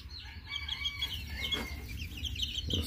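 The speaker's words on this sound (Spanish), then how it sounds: "There's three little roosters." Young roosters cluck and give a strained, immature crow in a steady farmyard chorus, fairly close, over a low continuous background rumble.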